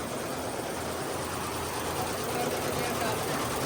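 A computerised embroidery machine runs steadily in a workshop, a continuous dense mechanical whir with rapid stitching rattle that holds level throughout, close and fairly loud.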